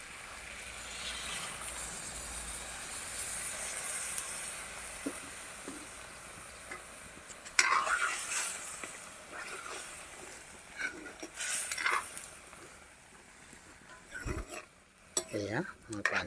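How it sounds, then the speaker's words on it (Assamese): Chicken curry frying in a pan with the oil nearly dried sizzles as water is poured in, followed by metal spoon scraping and stirring against the pot, with bursts of hissing and clatter throughout. "মই অলপ পানী দি দিওঁ।"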